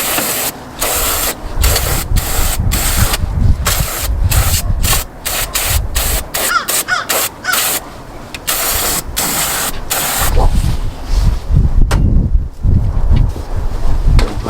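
Compressed air hisses in repeated short blasts and longer sprays while drying engine parts during valve cover gasket work on a 2007 Nissan Sentra, loud and close with choppy stops and starts.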